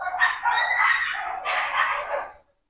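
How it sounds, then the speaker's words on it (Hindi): Several dogs bark outside a home in a continuous, overlapping chorus that stays fairly loud and close before cutting off. "टाइगर महोदय भी यहाँ पर सो रहे हैं, और कुत्तों की आवाज़ से उठ गए हैं थोड़ा सा"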